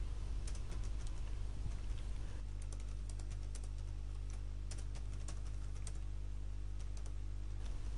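Keys pressed on a computer keyboard, a scattered run of light clicks and taps at close range over a steady low hum, with no talking.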